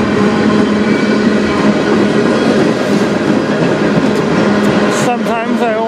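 A CN freight train rolls past on the Strathroy Subdivision, a loud steady rumble of wheels and rail clatter filling the whole stretch, with a squealing wheel tone near the end.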